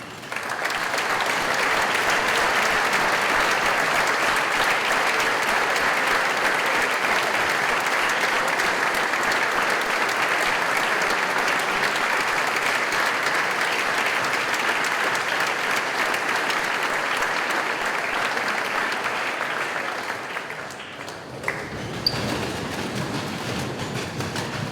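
Sustained applause from a large audience in an assembly hall greets a class of students, a dense, steady wash of clapping lasting around twenty seconds before thinning out and fading near the end.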